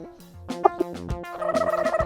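A rooster up for sale lets out a short run of warbling, throaty calls, loud and close, rising into a sustained rattling cry at the end.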